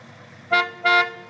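Horn of a GAZ-21 Volga sounding two short honks in quick succession, loud and close, with a pause between them.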